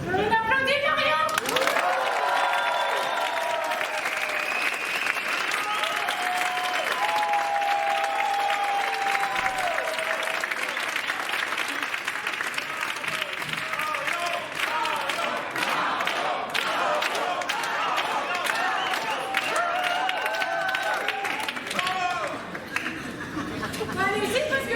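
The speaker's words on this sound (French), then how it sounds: "On applaudit Marion" Audience applause at a winter show in Nantes, long, loud and sustained clapping mixed with cheers, whoops and excited crowd chatter throughout.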